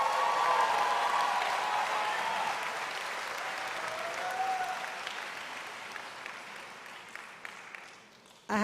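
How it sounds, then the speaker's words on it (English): Graduates at a medical school commencement ceremony applaud themselves, a broad sustained roar of clapping in a large hall that slowly fades and thins to scattered claps toward the end. "Give yourselves a round of applause."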